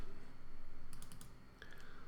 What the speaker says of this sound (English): So this is going to be a case of actually typing it in.